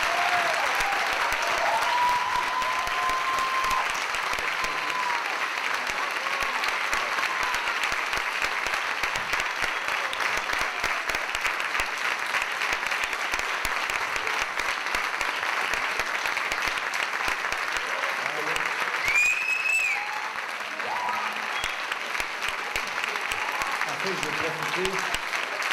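An audience at a June 2009 end-of-year school show at École St Joseph applauds Julie with steady, sustained clapping that fills the room and barely lets up for the whole stretch, with a few voices mixed in.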